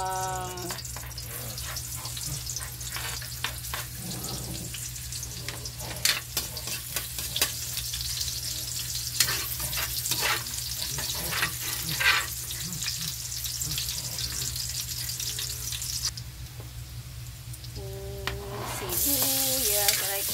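Garlic frying in oil in a pan in a home kitchen, a loud, steady close-up sizzle with intermittent clatter and stirring clicks, and a few brief voices and tonal sounds in the background.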